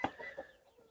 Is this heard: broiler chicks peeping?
yes